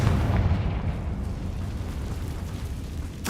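In Hogwarts Legacy, a Confringo fire spell bursts with a deep, rumbling boom that slowly fades over a few seconds.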